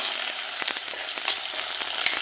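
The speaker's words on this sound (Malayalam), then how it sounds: "ഇനി ഇതൊന്ന് നല്ല രീതിയിലൊന്ന് വഴറ്റിയെടുക്കാം" Stingray curry masala with kudampuli sautéing in a pan, a steady close sizzle with occasional scraping stir sounds throughout, no voices.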